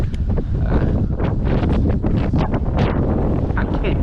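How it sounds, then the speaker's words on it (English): Strong wind buffets the microphone outdoors while fishing, loud rumbling gusts that surge and fade irregularly throughout, with faint rustling underneath. "it's very windy."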